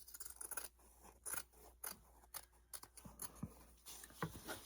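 Scissors snip through craft material for a primitive deer winter decoration, a close, quiet series of crisp irregular cuts with short pauses between them and no talk.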